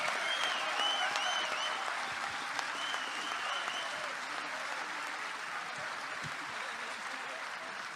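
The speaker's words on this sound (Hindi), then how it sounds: "थोड़ी और तालियों का असर।" A large audience at a poetry recital gives sustained applause to welcome the poet, a dense wash of clapping that fades slightly over several seconds, with a voice briefly heard over it.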